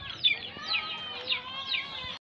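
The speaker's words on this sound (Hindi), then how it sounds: "ये मुर्गी सब कैसे रो रही है" Hens in a home yard cluck and cry in a steady run of close, slightly shrill calls. The calls rise and fall every half second or so. No one speaks over them.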